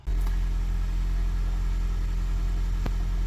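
A Toyota Prius hybrid engine runs at a steady idle with a constant low hum and rumble, one brief click partway through, up close and without talk.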